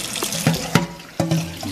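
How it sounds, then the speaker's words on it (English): Hot water running from a kitchen tap into a pot, a steady splashing flow with a few louder surges and clunks, close up with no talk. "I'm gonna have to add some hot water."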